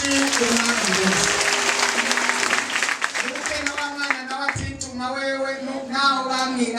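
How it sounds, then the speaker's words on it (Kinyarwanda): Congregation clapping in a church service, a dense burst of applause at full strength that thins slightly partway through, with voices mixed in. "Dukomera amashyi umwami Yesu."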